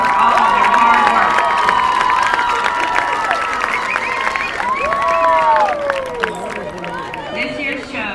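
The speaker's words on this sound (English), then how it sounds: "Let's give these band students a nice big round of applause for all of their hard work." Crowd at a homecoming high school varsity football game cheering and applauding band students, sustained claps mixed with whoops and shouts, a voice carrying over the noise.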